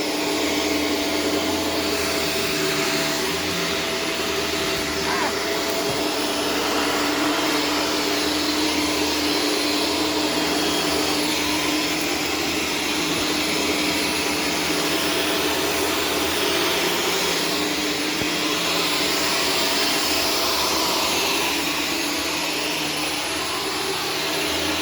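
A Shark self-cleaning robot vacuum hums with a constant, loud whirring drone that holds steady the whole time and never lets up. No one speaks.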